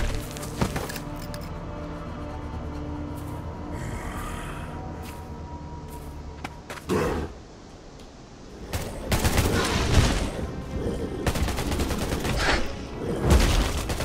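Bursts of gunfire and grenade blasts from the zombie survival game Undawn: a dense stretch of rapid shots, then a short lull, then fresh heavy volleys with crackling impacts, loud and close.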